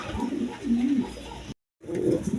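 A pair of Maharana pigeons coo in low, rounded pulses, close by, amid a light bustle of market background noise, with a brief dropout in the sound midway.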